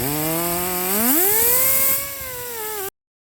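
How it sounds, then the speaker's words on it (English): A wire wheel whirs up to speed and holds a steady, loud motor whine while cleaning rust off brake caliper bolts from a 2020 Mitsubishi Eclipse Cross 1.5 Turbo, then stops abruptly. "clean the rust off of the bolts. You can use a wire wheel or something"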